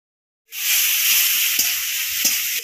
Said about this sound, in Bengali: তেলের মধ্যে দিয়ে দেবো টমেটো,